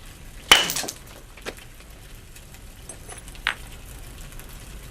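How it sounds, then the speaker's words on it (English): Stone hammerstone striking the edge of a flint core's striking platform during knapping: one sharp, bright crack followed by two fainter, shorter taps spaced a couple of seconds apart, close up against a quiet background. "the edge of the horizontal striking platform must be fined with a rough stone"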